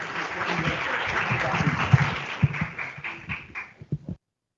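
Applause from a seminar audience welcoming a speaker to the stage at a talk on financial services: dense steady clapping that thins into a few scattered claps before stopping.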